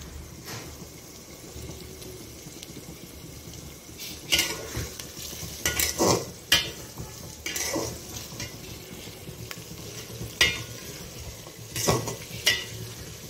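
Onions fry in a home kitchen pan with a low steady sizzle, broken by several sharp scraping stirs and clinks of a utensil against the pan.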